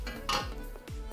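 Chunks of sliced pork drop back into a metal cooking pot during kare-kare preparation, with a couple of soft clanks and scrapes of utensil against the pot, quiet and close, no talking.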